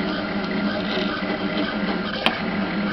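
A vinyl cutter cuts a vinyl decal with a steady mechanical whir and buzz that runs without a break, with one brief click near the end.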